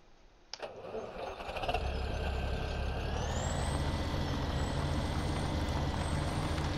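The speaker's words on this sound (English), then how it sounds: "I guess I'm gonna have to back the tractor up first." In the Farming Simulator video game, a tractor engine starts with a sharp click and then rises to a steady, loud drone whose pitch climbs as the tractor backs up.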